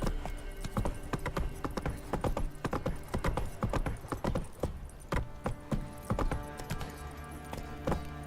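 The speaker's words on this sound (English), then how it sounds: "Run, Roach." Hoofbeats of the horse Roach galloping in The Witcher 3: Wild Hunt – Blood and Wine, a steady rapid clip-clop with tack jingling, loud and close throughout, with no talk.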